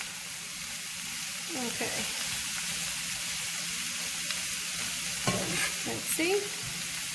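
Greens wilting in a hot pan for Greek-style rice, a continuous sizzle and hiss with several spatula scrapes and stirring strokes, a brief spoken word in between.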